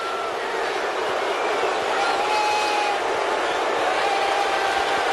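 A sellout crowd in a basketball arena for a 1996 Utah Jazz at Portland Trail Blazers playoff game roars and cheers, a dense, steady wall of crowd noise throughout.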